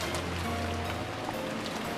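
Steady wind and rain from the visual novel Umineko hiss as a continuous, even wash of patter, with a low hum underneath and no voices.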